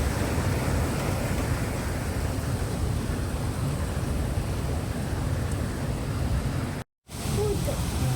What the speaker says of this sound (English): I'm gonna enjoy the rain for now,